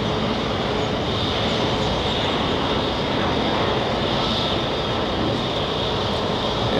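An Airbus A330 jet airliner comes in to land with a steady, loud broadband roar and a faint whine, sustained and even throughout with no voices.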